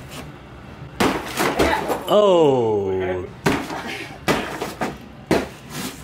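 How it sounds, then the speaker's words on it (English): Several sharp, loud whacks and cracks, a claw hammer striking and breaking apart a piñata, with a person's voice exclaiming between the blows. "This is the end of a claw hammer."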